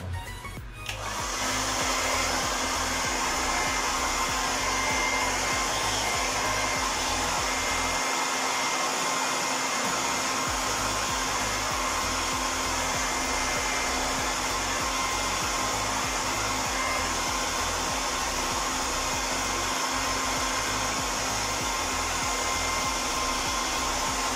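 A hair blower in a hotel in Makkah blows steadily and loudly the whole time, a constant whooshing roar with a faint whine, briefly dipping once early on.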